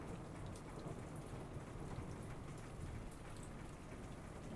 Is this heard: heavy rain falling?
yes